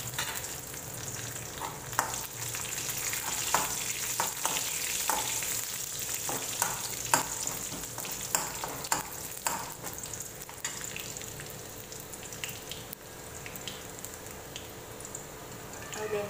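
Chillies fry in oil over a medium flame for a Kerala sadya cucumber pachadi, a continuous soft sizzle broken by scattered ticks and stirring scrapes, with a voice talking over it.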